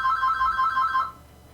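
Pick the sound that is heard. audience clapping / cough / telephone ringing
telephone ringing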